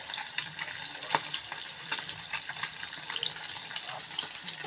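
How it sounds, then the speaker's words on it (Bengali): Fish sizzling and frying in fish oil in a home kitchen pan, a steady bright crackling hiss with occasional sharper pops, continuous and fairly close. "মাছগুলো লাল লাল করে আমি ভেজে নিচ্ছি।"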